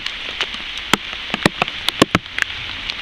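Rain falls in the woods on wet red pine wood and twigs, sounding as scattered, sharp close drops and ticks over a soft steady wash, with no speech.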